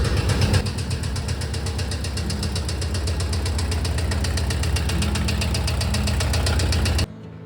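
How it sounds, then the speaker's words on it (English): A 2-liter VW Type 4 engine runs in a 1968 VW double cab bus, loud and close with a steady, rapid mechanical knock over its idle until it cuts off abruptly near the end. "we are going to remedy that engine knock by removing the engine"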